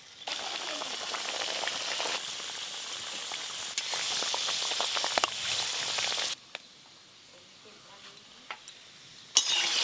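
Saptapuri pitha, a sweet palm-fruit fried cake, bubbles loudly in a karai of hot oil with a dense, crackling sizzle. It drops abruptly to a quieter fry, with occasional utensil clinks near the end.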